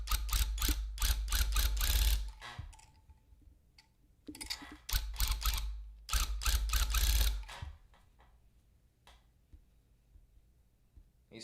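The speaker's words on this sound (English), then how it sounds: "So y'all can actually watch the needle work." A tufting gun's needle punches through backing on a rug frame in loud rapid mechanical bursts, running in several stretches of about two seconds with short pauses, then trailing off into fainter scattered clicks.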